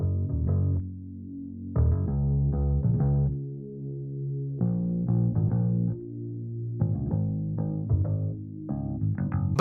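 A bass guitar and a synth bass play together in an 80s pop and 70s disco inspired beat, repeating short, punchy low phrases in a steady pattern with brief gaps between the note groups.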